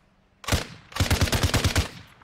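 A RAL gun fires in a video game: one close, heavy shot, then a rapid burst of about eight loud, evenly spaced shots. No talk is heard over the gunfire.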